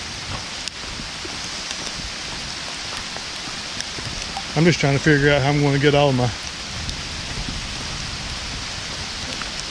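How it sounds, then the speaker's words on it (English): Heavy, steady rain from a thunderstorm pours down throughout, a dense hiss close by, while someone speaks briefly over it in the middle. "this rain's going to be here for a minute"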